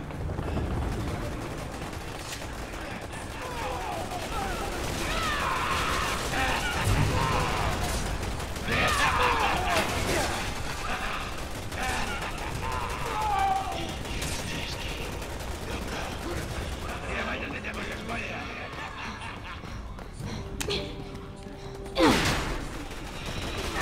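Gunfire from Resident Evil 6 in split-screen co-op play, with bursts and shots scattered across a dense, busy game soundscape that carries on steadily throughout, punctuated by a sharper crack near the end.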